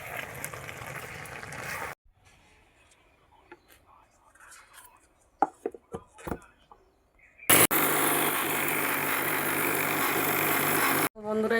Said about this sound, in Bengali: এইবার এইটা মিক্সারে দিয়ে গুঁড়ো করব